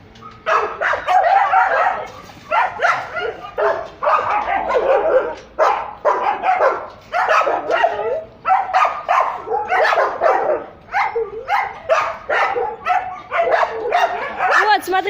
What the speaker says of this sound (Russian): Породистый пёс.